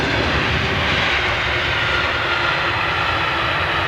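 A jet airliner touches down on landing, heard as a loud, steady broadband engine roar with no break in it, close and continuous throughout.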